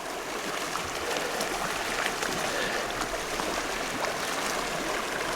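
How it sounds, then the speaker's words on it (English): Icy river running through a freezing park, broad steady rush of flowing water carrying chunks of ice, continuous and fairly close with no talking. "there's the ice like flowing down the river in chunks"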